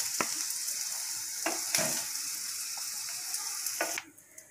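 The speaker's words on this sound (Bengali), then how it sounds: "তেলের মধ্যে পনিরটাকে হালকা করে নাড়াচাড়া করে নিচ্ছি।" Paneer pieces sizzle in a little hot oil in a pan while being gently stirred, with a steady frying hiss broken by a few sharp scraping clicks before the sizzle suddenly drops away near the end.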